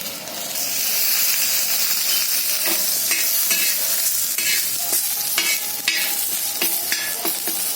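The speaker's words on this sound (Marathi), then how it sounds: "हे खडे मसाले घालते मी, दालचिनी, लवंग, मिरे, दगडफूल आणि थोडंसं याच्यावर तेल घालते, म्हणजे छान जरा भाजल्यावर।" Whole spices, cinnamon, cloves, black pepper and stone flower, roast in hot oil in a pan for chicken handi, giving a loud, steady sizzle and hiss with repeated scraping stirs close by and no voices.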